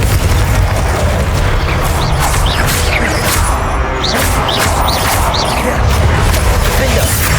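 Confringo fire spells bursting repeatedly in Hogwarts Legacy combat, loud booming blasts and crackling impacts layered over constant battle noise and a dense low rumble throughout.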